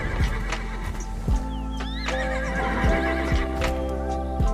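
Horses in a video game neigh and whinny loudly over a steady background tone, with occasional thudding hoofbeats.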